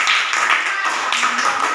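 A classroom group claps together in a steady, dense burst of applause lasting a couple of seconds, close and fairly loud, with no talking over it.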